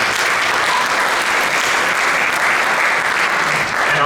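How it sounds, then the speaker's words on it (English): Audience applause from a seated crowd, a steady, dense wash of clapping sustained evenly throughout. "give them a round of applause so they can hear that"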